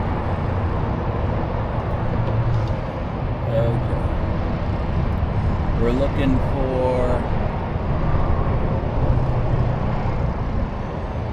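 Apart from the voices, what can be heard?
traffic noise near a road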